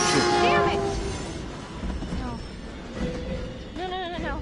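A train rumbles past in the crime video game Hidden Agenda, with a horn blast at the start and a continuous rolling roar beneath talk.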